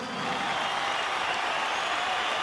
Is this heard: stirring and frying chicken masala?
no